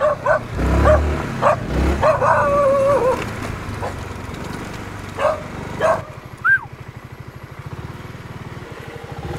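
Several dogs in Pattaya bark and howl in bursts while chasing, fairly close, over a steady motor drone that continues after the barking stops.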